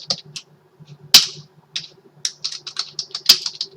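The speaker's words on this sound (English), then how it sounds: "the rate of interest must be entered from the keyboard" Typing on a computer keyboard, irregular bursts of crisp key clicks and a few sharper taps, close to the microphone in a quiet room.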